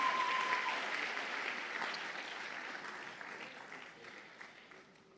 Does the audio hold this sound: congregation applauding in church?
yes